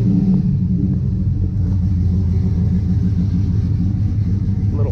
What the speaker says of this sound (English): I'll go ahead and start the truck so that way y'all can hear what that sounds like.